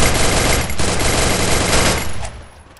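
Sustained rapid automatic gunfire from the game Free Fire, a dense loud burst of shots lasting over two seconds before tapering off.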